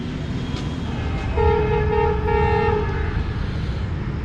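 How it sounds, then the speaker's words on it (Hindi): Karakoram Express approaching a station behind a Chinese ZCU30 locomotive, a steady rumble of rolling train with a long two-tone horn sounding in the middle, loud and fairly close, no voices. "42 डाउन कराकरम एक्सप्रेस अप्रोच कर रही है और आज इसको चाइनीज़ लोकोमोटिव ZCU30 6302 लीड कर रहा है"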